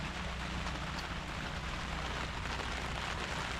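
Rain falls steadily on a tent while camping near Silverton, a dense, even patter and hiss that stays constant and close with no voices.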